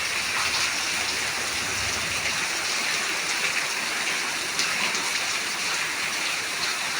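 Heavy rain pours steadily in Tiruppur, a dense, unbroken hiss of falling water with no pauses across the whole stretch.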